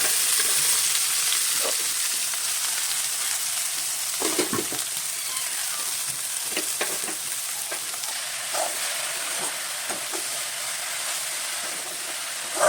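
Chopped leaves frying with onions already browned in a pan for thoran, a steady dense sizzle throughout with scattered sharp crackles and a few louder spatter pops near the middle, close and fairly loud.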